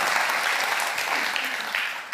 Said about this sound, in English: at least the applause is there already